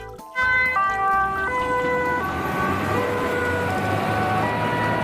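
A loud electronic siren wails steadily, its tones stepping down in pitch, harsh and close like a small toy.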